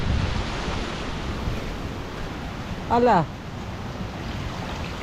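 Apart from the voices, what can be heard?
typhoon floodwater waves and strong wind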